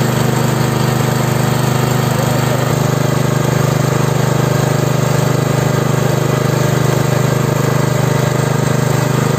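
A Redbo RFW 160A portable engine-driven welder runs at a steady medium throttle, a loud continuous engine drone with a strong low hum and constant rattle, close by and without pause.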